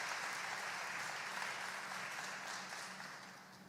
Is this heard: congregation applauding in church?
yes